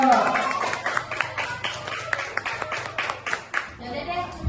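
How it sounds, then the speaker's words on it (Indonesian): A group at an elementary school claps hands in a scattered burst that fades out, with voices and crowd noise around it. "Coba tepuk tangan dulu buat Monika."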